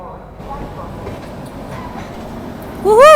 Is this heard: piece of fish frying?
no